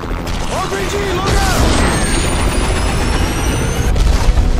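Game combat in Call of Duty Modern Warfare 3 as an RPG strike downs a helicopter: loud metallic crashing and booming with whistling, rising tones and rotor-like mechanical clatter, voices shouting over it.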